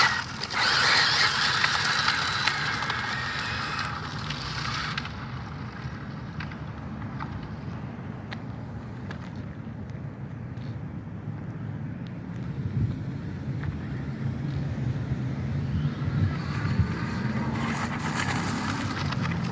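An Arrma Infraction 6S V2 RC car runs on gravel, its motor a steady whirring drone mixed with crunching gravel and gusty wind buffeting the microphone, rising louder at the start and again near the end.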